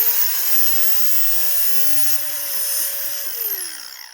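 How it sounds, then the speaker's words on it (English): A Dremel rotary tool cuts a small hole for liquid hardener to flow out, giving a steady, close high-pitched whine that holds for about three seconds and then winds down as the bit spins to a stop. "plug in the Dremel like so, and basically cut a little hole in"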